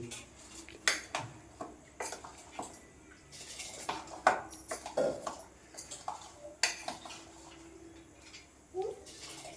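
Chili powder being stirred into instant mango pickle with a spoon, giving scattered clinks and scrapes against a bowl at an uneven, unhurried pace, fairly close and moderately loud.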